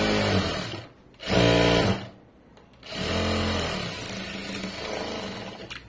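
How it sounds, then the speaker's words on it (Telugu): Electric sewing machine runs in bursts while stitching fabric, a loud close whirring drone that starts, stops briefly, restarts, pauses again and then runs steadily to the end. "మళ్ళీ ఇటు తిప్పేసుకుని ఇంకో స్టిచ్ వేయండి."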